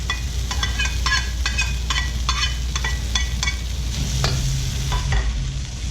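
Peppers and garlic stir-fried in a pan for a velvet chicken stir-fry, loud close sizzling with a run of rhythmic scraping strokes from a utensil tossing the food, over a low steady hum, no talking.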